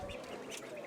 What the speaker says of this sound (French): a des trios de canards colverts, de canetons colverts. Les petits colverts.